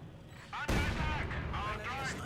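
Rapid bursts of gunfire and explosions from a Company of Heroes 2 battle, with snipers firing on conscripts, loud and dense under an excited commentator's voice.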